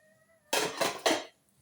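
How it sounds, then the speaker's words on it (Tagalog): Plates clatter briefly during dishwashing, with about three quick, close bursts of ceramic knocking and scraping and near silence before and after. "Kailangan mahugas ng plato dahil wala tayong kakainan."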